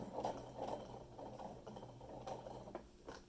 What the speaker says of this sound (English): I will feel the pin with the needle of the sewing machine